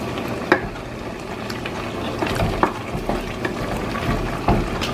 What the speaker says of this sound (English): You can see that the meat is cooking pretty good